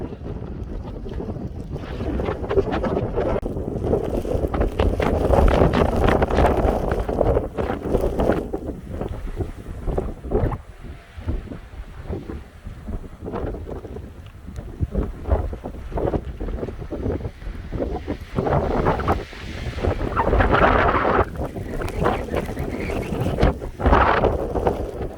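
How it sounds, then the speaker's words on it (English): Heavy blowing snowstorm wind roars along Highway 1 in Saskatchewan in November, a loud, steady buffeting gust battering the microphone throughout with no talk. "Heavy blowing snow accumulating very quickly"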